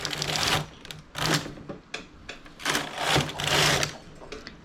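A knitting machine carriage runs across a 2x2 rib while a buttonhole is worked, giving repeated close, loud mechanical clattering passes in an irregular back-and-forth rhythm with short pauses between runs.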